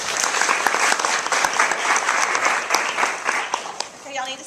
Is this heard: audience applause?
yes